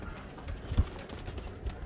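Pigeon cooing near a loft of fancy pigeons, a soft low coo standing out briefly against quiet background noise.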